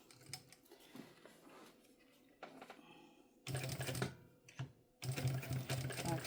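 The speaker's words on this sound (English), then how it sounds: "I'm just going to stitch close to the edge of the strap anchor" A sewing machine stitches along the edge of a strap anchor on a mini backpack in short bursts: quiet handling and faint clicks first, then two loud, rapid, close runs of stitching.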